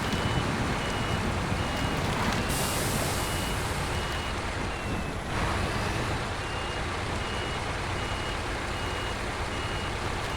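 A truck's reversing alarm in the SnowRunner video game, set on a Tennessee map, repeats faint steady beeps behind a loud continuous engine rumble and broad noise.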